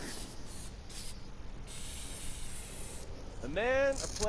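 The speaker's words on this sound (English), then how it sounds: "A man, a plan, and an aerosol can." An aerosol spray can used for stencil painting in a video game, giving several bursts of hissing spray of varying length, close and loud, with a voice speaking briefly at the end.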